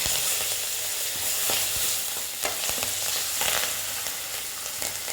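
Curry leaves hit hot oil in a pan beside fried dried red chillies for carrot upma, a dense crackling sizzle with sharp pops scattered throughout, steady and close.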